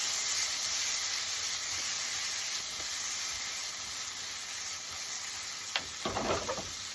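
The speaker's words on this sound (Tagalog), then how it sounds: "Lagay natin yung tomato. I-mix ko lang ulit." Tomato goes into a pan of sautéed garlic and onion, sending up a loud, steady sizzle close by, with a few brief stirring scrapes near the end and no voices.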